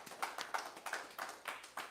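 A few people clap for a performer at a concert, the strikes quiet and evenly spaced, roughly three per second, with no voices over them.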